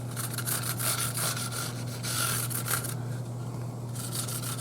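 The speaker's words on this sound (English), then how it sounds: "this 600 sandpaper is a good sandpaper to use on things like this because it's not too rough" 600-grit sandpaper rubbing along a '58 double cut Junior replica guitar neck near the frets, in quick back-and-forth strokes, close but faint over a steady low hum, with no talking.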